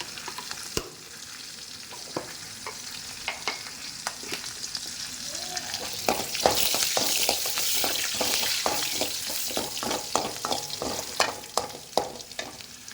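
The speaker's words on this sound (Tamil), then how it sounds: "தாளிப்பு போட்டு இப்போ நம்ம உள்ளே ஊற்றிட போகிறோம்." Hot tempering poured into a pot of sambar sets off a loud sizzling hiss that swells midway and stays, broken by sharp clinks and spoon stirs, with no voices.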